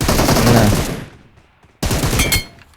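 Loud rapid bursts of automatic gunfire from a video game, a sustained volley that trails off, then resumes abruptly with another close, intense stream of shots.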